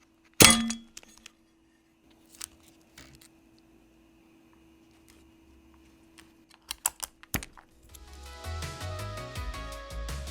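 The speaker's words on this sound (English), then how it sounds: "Just press down into the keyboard with your thumbs while pulling on the top case from the sides with your fingertips" Top case of a Kiboom Moonshadow V2 mechanical keyboard being pulled free of its ball catch mounts, one sharp loud clack at the start, then scattered clicks and taps, a cluster of knocks near the end and a rustling handling sound.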